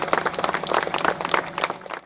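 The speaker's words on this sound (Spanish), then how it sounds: "Fuertes aplausos, por favor." Loud applause from the audience at a posthumous tribute to archaeologist Santiago Uceda at the Huacas de Moche museum, dense clapping that swells and tapers off near the end, with no talking over it.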